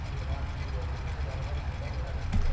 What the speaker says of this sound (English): just listen to the nice idle sound of the V8 engine